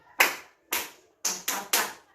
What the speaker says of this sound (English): So clap for yourself again.